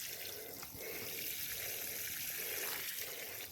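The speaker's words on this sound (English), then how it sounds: "now I go water all these amazing veggies" Steady stream of water splashing and trickling onto tomato plants and soil in a vegetable garden, continuous and moderately quiet, with no voices.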